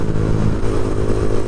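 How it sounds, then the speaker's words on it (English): Rough, grinding clatter from a motorcycle clutch basket fitted with a DHM 149cc big bore kit, a loud continuous mechanical rattle under the idling engine, heard close with no talking. "It just sounds like pieces are broken all inside the basket."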